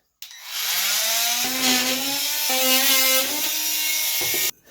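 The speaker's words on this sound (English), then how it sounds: "Now you can use either a drywall saw or this multi-tool here to make the cut." A multi-tool cuts into drywall during a bathroom vanity light fixture replacement, making a loud, close buzzing whine that shifts pitch as the blade bites, in one continuous run of about four seconds with short changes in load.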